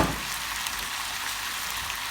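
Vegetables stir-fry in a pan with honey and soy, a steady dense sizzle running continuously and close, with no voices.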